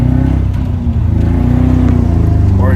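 Engine of a manual 1984 Toyota Corolla AE86 hatch, driven with windows down, droning steadily as it shifts into third gear, with a brief dip mid-clip and a rise in revs near the end; loud, close and continuous.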